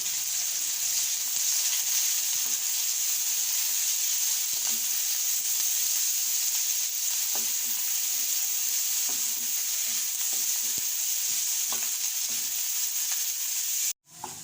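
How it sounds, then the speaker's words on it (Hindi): Onions sizzling steadily in hot oil, a continuous bright crackling hiss with small pops, ending with a sharp clatter. "प्याज डालेंगे, प्याज को ब्राउन करने।"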